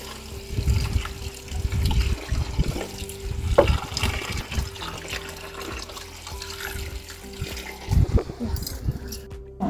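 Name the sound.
water added to a mixer for grinding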